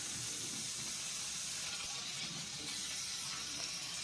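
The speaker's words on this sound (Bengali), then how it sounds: "আলুটাকে দিয়ে হালকা করে ভেজে নেব, খুব বেশি লাল করে ভাজবো না" Cut potatoes frying in hot mustard oil, a steady, even hiss and sizzle that holds throughout without voices.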